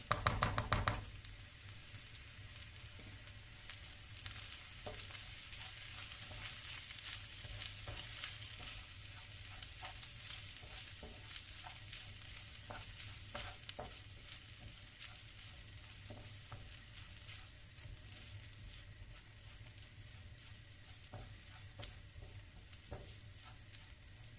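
Washed rice being stirred into tomato paste frying in a pot, with a steady close sizzle and scraping stir sounds running throughout, louder at the start, no talking.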